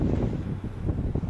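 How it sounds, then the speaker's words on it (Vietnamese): Strong coastal wind buffets the microphone at Kê Gà lighthouse on the Vietnamese shore, a steady loud low roar with gusty fluctuations throughout and no speech. "gió đấy, gió lớn lắm ấy"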